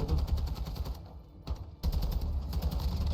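Rapid bursts of automatic gunfire in a first-person shooter video game, a quick stuttering string of shots with a short pause before firing resumes.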